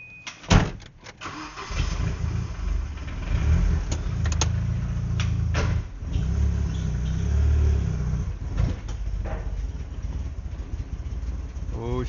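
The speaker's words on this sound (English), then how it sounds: "she's a rough starter on ethanol. Takes a minute to get warm." A Volvo 780 Bertone running on ethanol cranks and catches roughly, then settles into a loud, uneven, close-up engine rumble with some unsteady surges as it warms.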